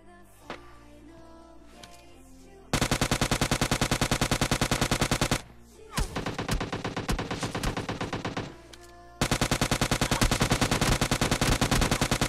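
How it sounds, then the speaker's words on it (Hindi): Rapid automatic gunfire in a battle royale video game, loud bursts of fast repeated shots in several long strings separated by short pauses, with softer distant shots before the first burst. "इनके भी देखो गन साउंड्स वगैरह आ रहे थे मेरे को"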